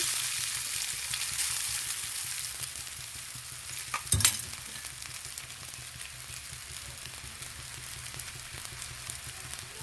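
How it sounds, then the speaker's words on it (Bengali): Boiled chow mein noodles drop into hot oil with a sharp clatter, then settle into a steady, moderately quiet frying sizzle with light stirring. "তেলটা গরম হয়ে এসেছে, এবার সেদ্ধ করে রাখা চাউমিনগুলো এর মধ্যে দিয়ে দিচ্ছি"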